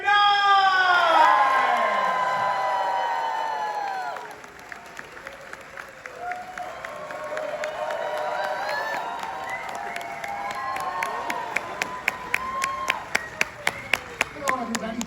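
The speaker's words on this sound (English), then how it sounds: "Please give it up for Joseph Mazzello and Wayne Nye!" Fan convention audience applauding and cheering loudly at the start, with whoops and voices in the crowd, then settling into scattered clapping and crowd chatter for a Jurassic Park Q&A panel.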